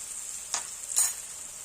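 Spices fry with onion and ginger-garlic paste in a pan. A steady, close sizzling hiss runs throughout, and two brief stirring scrapes stand out near the middle. No one speaks.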